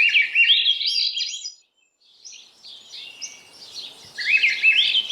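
Clear, fluting thrush song with rising, flute-like phrases, repeated after a short pause, fairly close in a quiet forested garden.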